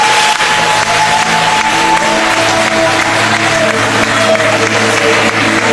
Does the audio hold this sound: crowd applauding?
yes